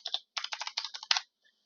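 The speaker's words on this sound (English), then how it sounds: "The user can then type in any notes." Quick bursts of keystrokes on a computer keyboard as notes are typed into a web form, a close, dry clatter of about a dozen taps with a short pause after the first pair.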